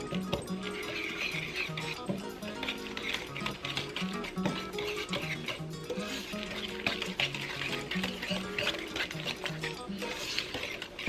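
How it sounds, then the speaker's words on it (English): A whisk stirs vanilla extract into cowboy cookie batter in a bowl, giving a steady, busy scraping and tapping that runs throughout, mixed with background music. "And 1 teaspoon of vanilla extract. And we're going to whisk this together."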